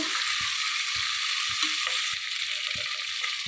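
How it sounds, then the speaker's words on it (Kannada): Double beans, peas and onion fry in a pan with a bright, steady sizzle throughout. Soft scraping and clicking stirring knocks recur at an uneven pace beneath it, and no one speaks. "ಇದರಲ್ಲಿ ಫ್ರೈ ಮಾಡ್ತಾ ಇರಬೇಕಾದ್ರೆ ಈರುಳ್ಳಿನೂ ಸಹ ಇನ್ನೂ ಫ್ರೈ ಆಗುತ್ತೆ."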